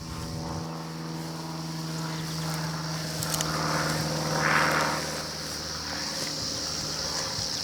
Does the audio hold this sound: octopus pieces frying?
no